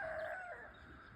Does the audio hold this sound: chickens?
yes